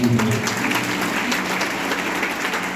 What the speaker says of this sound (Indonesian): Ayo yang bangga punya Yesus, kasih tepuk tangan.